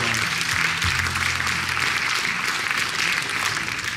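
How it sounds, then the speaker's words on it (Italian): An audience applauding at a ski club celebration party in a hall: dense, sustained clapping from many hands, loud and close, continuing without pause and tapering slightly at the end. "Un applauso perché servono."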